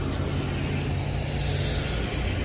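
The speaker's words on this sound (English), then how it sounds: "you guys don't need to have such noisy ass trucks" Heavy trucks on a road rumble past in a continuous low roar, steady and fairly loud with no speech over it.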